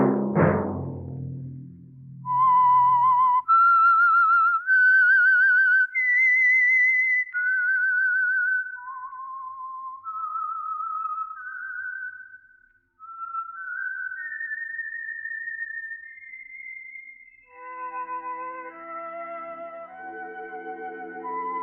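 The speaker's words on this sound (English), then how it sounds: "Let that whistle be your signal for the Signal Oil program, The Whistler" A man whistles a slow, eerie signature melody alone, the sustained notes rising and falling clearly and close, after a brief low sound at the start, for The Whistler radio program.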